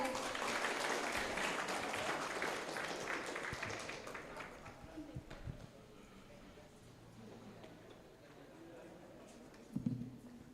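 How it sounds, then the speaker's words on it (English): Audience applause at a school conference in an international school hall, a dense round of clapping that fades over several seconds into quieter room noise with a few scattered knocks. "Please give applause."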